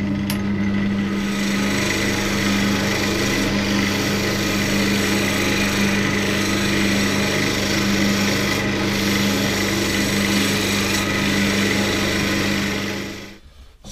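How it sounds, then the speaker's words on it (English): Fountain pen blanks spin on a wood lathe while a roughing gouge cuts them down, producing a loud, steady rasping hum with a constant motor tone that runs unbroken until it cuts off abruptly at the end. "what I'll do is I will mainly use the roughing gouge to take these down to a fair size"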